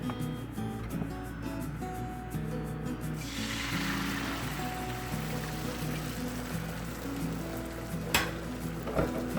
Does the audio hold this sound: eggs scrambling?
yes